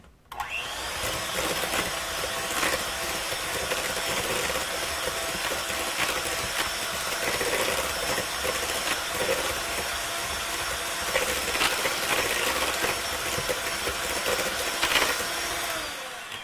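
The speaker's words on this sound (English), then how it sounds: "So now we're going to beat up the sugar and the flour and the butter, and then we'll add the eggs into that." Electric mixer beating sugar, flour and butter for a lemon pie crust, a steady loud whirring drone running continuously with slight rattling and no talk.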